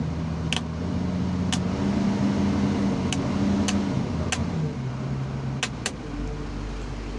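An XCMG XE 215 C excavator engine drones steadily as its revs are raised, the pitch of the hum shifting and climbing, with a few sharp clicks scattered over the continuous machine noise.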